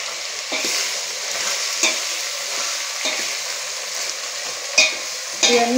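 Sambar ingredients being stirred in a hot pot, with a steady close sizzle under repeated scraping strokes of a spoon, a few sharper clinks near the end; no talking.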